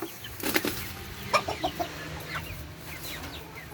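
Hens and chicks being fed nettles cluck and peep close by, with soft scattered calls, a burst of wing flapping and scratching, moderately quiet, with no talking.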